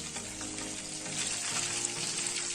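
Channa fish bonda frying in hot oil, a dense steady crackling sizzle, close and continuous.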